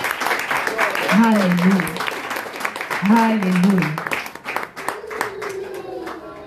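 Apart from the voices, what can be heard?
congregation applause in church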